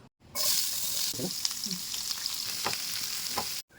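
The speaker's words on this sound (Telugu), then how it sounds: "ఆయిల్ వేడైన తర్వాత కట్ చేసిన ఉల్లిపాయలు పచ్చిమిర్చి టమాటా వేసుకుంటున్నాను" Chopped onions, green chilies and tomatoes hit hot oil in a pan with a loud, steady sizzle, punctuated by a few soft stirring scrapes, close up.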